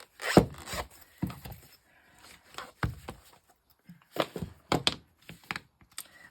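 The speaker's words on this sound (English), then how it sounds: "Get my little hammer out." A little hammer taps on a Christmas craft project for kids, a string of sharp, close wooden knocks in irregular bursts with short pauses between.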